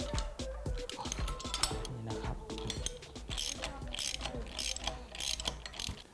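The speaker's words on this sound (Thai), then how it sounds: "ต่อไปเราจะใส่น็อตตัวเมียนะฮะ จะใส่เป็นน็อตกันคาย" Ratchet driving a nylon-insert lock nut onto an off-road A-arm, a rapid clicking pawl run with metallic clatter throughout, close and steady, no talk.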